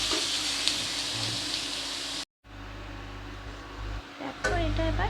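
Spinach sizzling and frying in a pan as it is stirred, a steady close hiss with occasional scraping, under a voice speaking.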